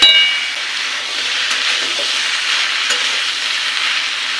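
Steady sizzle of turmeric, chili and coriander powder frying in a pan while being stirred, with a spoon clinking and scraping against the metal, close and fairly loud with no voices.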